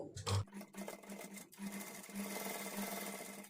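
Sewing machine stitching along fabric lining to make thread piping; a steady close mechanical whirring run after a short start, fairly quiet and alone.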